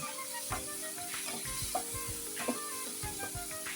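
Quiet, bubbling sizzle of a thick spice paste cooking in a pan as a few spoonfuls of water are added, with soft intermittent scrapes and stirring knocks.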